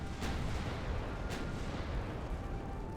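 Warship guns firing in the naval game Ultimate Admiral: Dreadnoughts, two sharp booms about a second apart over a steady dense rumble of battle noise, with no talk.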